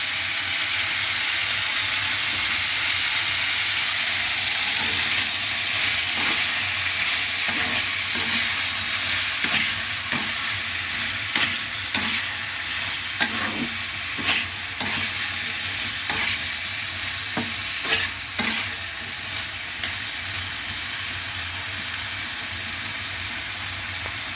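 Potatoes frying in a pan with a steady hiss of sizzling oil, while a utensil scrapes and stirs them in repeated strokes, clearer and more frequent in the second half; close and fairly loud, no talking.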